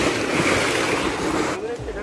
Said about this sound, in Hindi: ये है समंदर की लहरें।